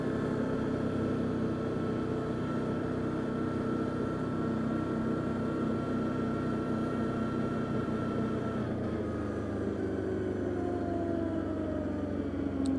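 Arctic Cat Diesel 700 engine braking on a trail ride, a steady close diesel drone with a pitch that slowly sinks as the machine slows, no talking over it.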